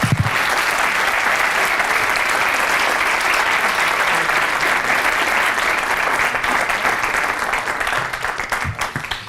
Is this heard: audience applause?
yes